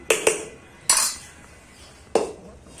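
Hot, freshly cooked rice served onto a plate with metal utensils, giving four sharp clinks and scrapes of cutlery against dishware, close and distinct, with quiet pauses between them.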